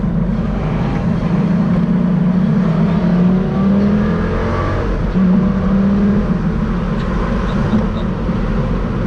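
A Lamborghini engine idles and revs, a loud low continuous drone with rising and falling pitch swells around the fourth and sixth seconds, steady and close with no talking.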